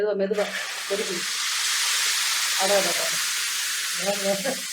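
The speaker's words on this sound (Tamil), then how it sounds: "இந்த பொடியை போடுறேன் பொடியை போட்டு சும்மா ஒரு கிளறு" Tomato pickle sizzles steadily in a pan while spice powder is stirred in, a continuous frying hiss running under intermittent talking.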